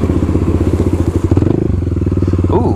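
Supermoto motorcycle engine chugging and revving through slow right-hand practice turns, a close, loud, pulsing single-cylinder note that rises and dips with throttle blips, with faint clattering underneath.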